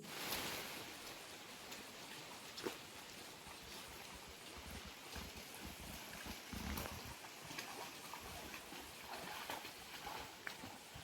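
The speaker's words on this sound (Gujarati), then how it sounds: "વરસાદે ધીમે ધીમો ચાલુ થઈ ગયો છે" Light rain falls in the Gir forest, a steady soft patter with scattered drips and occasional louder drops against a diffuse outdoor background.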